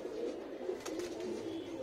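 Madrasi pigeons coo in a low, continuous murmur, with several soft overlapping coos running steadily throughout at moderate distance.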